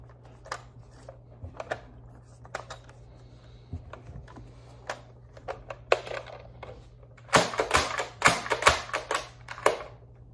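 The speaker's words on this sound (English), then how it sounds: "I'm going to load the full barrel, but slam firing it this time." Nerf Elite Disruptor blaster slam firing X-Shot darts, with scattered mechanical clicks and rattles, then a dense cluster of loud, sharp snaps and clatter toward the end, with no talk.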